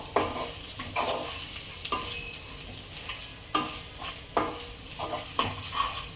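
Whole eggs fry in hot oil over a flame for egg pulao and are stirred until browned, with a steady sizzle broken by repeated scraping stir strokes close by.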